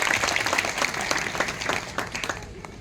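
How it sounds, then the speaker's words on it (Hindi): Audience applause at a political rally for an assembly election candidate, a steady dense patter of many hands clapping at moderate distance with faint talk underneath, lasting about three seconds. "एक बार ताली बजा दो"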